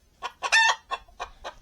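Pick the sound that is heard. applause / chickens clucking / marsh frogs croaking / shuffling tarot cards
chickens clucking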